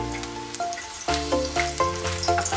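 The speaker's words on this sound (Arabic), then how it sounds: "تو مش نرميو لي زانغريديون تاعنا في الزيت، نردو بالنا في الزيت" Ingredients dropped into hot oil for Tunisian kafteji: close sizzling and bubbling frying with uneven crackles, heard over steady background music and no voices.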